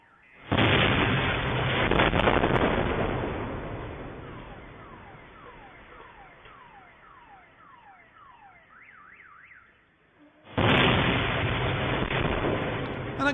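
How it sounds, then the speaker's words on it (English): A second HIMARS missile explodes in a city near an ammo dump with a loud blast and long rumble, followed by a wailing car alarm cycling through rising and falling tones, then another heavy explosion bursts in near the end. "We now hear a second HIMARS missile land and explode."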